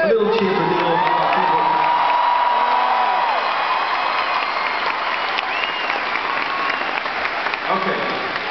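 A concert crowd in Brisbane cheers and applauds loudly, with clapping, whoops and shouts building into a sustained roar over a fading voice.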